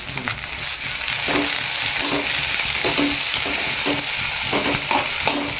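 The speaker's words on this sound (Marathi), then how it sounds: "आता कांदा भाजून घेणार" Onions sizzle in hot oil in a kadhai, with a steady frying hiss and occasional stirring scrapes, close and moderately loud.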